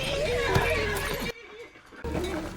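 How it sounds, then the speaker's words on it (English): A horse neighs with a wavering whinny, loud and close, while people talk over it. "That's my Uncle Benjamin's horse"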